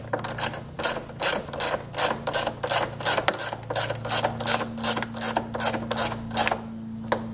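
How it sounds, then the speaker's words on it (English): Plastic Knight Rider light housing on a WS6 Trans Am being screwed into the front case, a rapid series of sharp cracking, ratcheting clicks in a steady rhythm, close up over a faint hum. "You're going to hear cracking and all kinds of ugly stuff."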